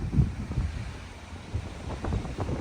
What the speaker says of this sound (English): Really windy day. Gusting to 30 here in Custer Park.